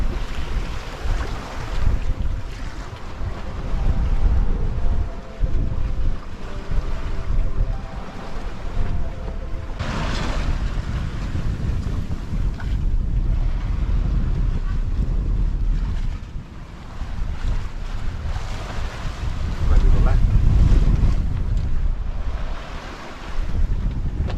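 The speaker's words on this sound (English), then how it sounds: "Just can't get better than trade wind sailing." A small sailboat runs at 5.4 knots in Pacific trade winds. Water rushes and splashes against the hull under steady, heavy wind buffeting, and the sound swells now and then over roughly twenty-four seconds. No voices are heard.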